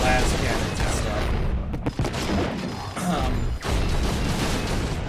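Dense, loud gunfire and battle noise from a RimWorld 40k fight against a Tyranid hive, a continuous fusillade with a few sharp drops, and a voice speaking over it.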